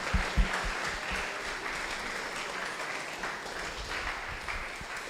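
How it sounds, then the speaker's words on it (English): Audience applause fills a hall after a talk on leadership and innovation, steady dense clapping from many hands at moderate level, a few sharper low thumps near the start, with no voices over it. "Shall we clap for Dr. Edwin?"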